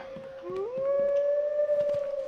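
A dog in The Infected survival game howls in one long, rising then steady wail, fairly close and clear over faint background clicks.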